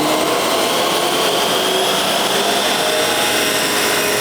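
A car engine is held at high revs on a dyno, running on 93 octane fuel, giving a loud, continuous roar close by with no voices over it.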